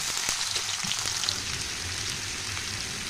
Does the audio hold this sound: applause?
no